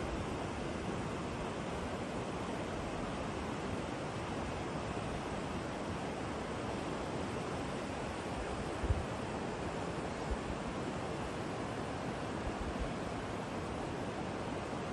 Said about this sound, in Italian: di come scorre l'acqua